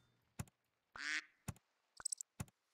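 A duck pet from the game Super Auto Pets quacks in a few short, bright calls spaced between sharp clicks and game sound effects, fairly quiet and with no talk.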